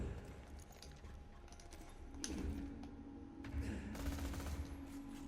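Gunfire from the Kitten weapon in Borderlands 2, heard as a quiet, steady stream of rapid shots and sharp bursts over a continuous low game rumble.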